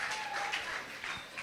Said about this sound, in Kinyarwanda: Dukomereze amashyi menshi cyane.